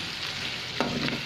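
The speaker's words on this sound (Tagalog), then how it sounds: "Ayan na yung sugar guys. Haluin lang natin." Sugar being stirred in a hot pan gives a brief, close sizzle with one scrape of the utensil partway through, no voices.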